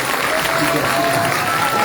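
An audience applauds the third-place finisher at a school eloquence contest final, loud dense clapping with crowd voices mixed in.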